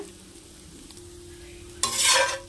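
Brinjal fry with masala being mixed in a pan, a low quiet simmer that bursts into a loud, bright sizzle near the end as the pieces are turned.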